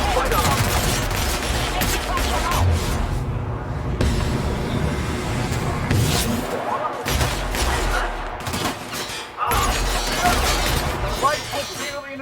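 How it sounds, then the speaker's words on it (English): Rapid gunfire in The Outer Worlds, a sci-fi shooter, crackling in dense volleys with short gaps, loud and close, mixed with speech and other combat noise. "We have a lot of shooting to do"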